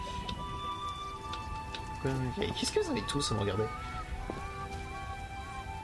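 Steady rain falls in The Witcher video game, a constant soft hiss beneath people talking in the foreground.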